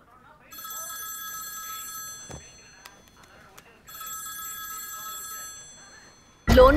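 A telephone rings with two electronic ringtone bursts separated by a short gap, clear and close, and a voice speaks briefly between them.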